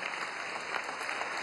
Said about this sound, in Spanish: un aplauso a esta camarada